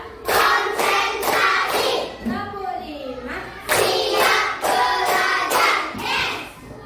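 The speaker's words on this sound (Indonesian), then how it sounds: "Tepuk 1, tepuk 2, tepuk 3, tepuk 4, tepuk 5," A school class performing the counted tepuk konsentrasi clapping routine, sharp bursts of claps in rhythmic groups alternating with children's chanting voices, close and loud.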